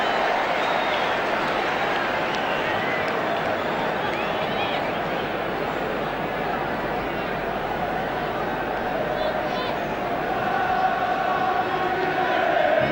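A large football stadium crowd at a 1981 England v Brazil friendly international produces a steady, broad roar and murmur throughout, with a commentator talking over it.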